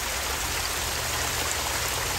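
Stream water flowing steadily at a collection spot near the James River, a continuous broadband rush with no talk over it.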